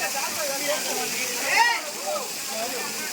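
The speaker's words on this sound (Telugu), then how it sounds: "చూడండి ఎంత బాగా పడుతుంది వాటర్ ఫాల్." A waterfall pours steadily in the rain at Pandav Lanka, a continuous hissing rush close by, with a voice faintly audible over it.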